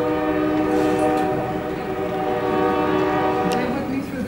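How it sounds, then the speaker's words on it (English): A passing train sounds a long, loud, sustained horn over rumbling wheels. The horn holds steady for the whole stretch, drowning out the meeting room. "Stay with me through the train."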